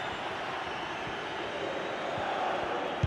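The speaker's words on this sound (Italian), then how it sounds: "I tifosi rumoreggiano per la decisione dell'arbitro di non assegnare il penalty nell'occasione precedente." A stadium crowd in the EA FC football video game rumbles as a steady, dense roar of many voices that stays even throughout, with a faint knock near the end.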